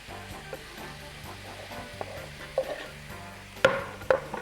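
Chopped pepper sizzles in a frying pan with a steady, moderate crackle and scattered stirring clatter, ending in two louder knocks of a utensil against the pan.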